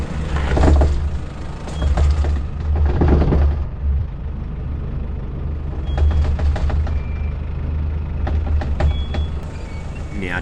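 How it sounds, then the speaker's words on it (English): A tyre rubs against the wheel guard while a vehicle drives the rough Old Telegraph Track: recurring bursts of harsh scraping and grinding rise over a steady low engine rumble, with no one talking. "you'll clearly be able to hear the tyre rubbing on the guard"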